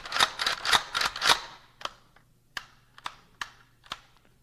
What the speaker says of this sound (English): Cycle the slide and safety a few times to make sure the rifle is in good working order.